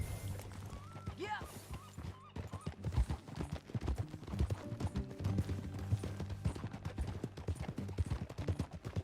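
In the video game Red Dead Redemption 2, a horse is ridden with a steady clip-clop of hooves under in-game music and characters talking, and a brief whinny can be heard.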